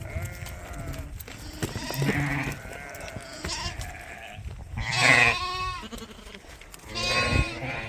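Sheep bleat as they are let outdoors on a farm, several loud nearby calls over a few seconds with shuffling and movement in between, and no one speaking.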